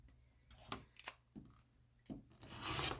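Quilt fabric is cut along a ruler, giving faint, short scraping strokes at irregular intervals and then a longer rasping pass at the end, heard up close with no talk.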